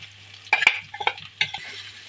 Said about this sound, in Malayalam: ഈ അരപ്പ് ഇതിനകത്തോട്ട് കടുക് പൊട്ടിയതിനകത്തോട്ട് ഇടുക